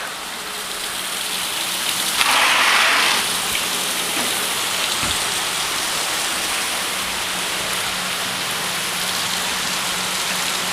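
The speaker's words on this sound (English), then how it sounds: "it's frickin' raining again." Steady rain falls throughout, a dense even hiss of drops on surfaces, close and moderately loud, with a brief louder gush near the start and no talking.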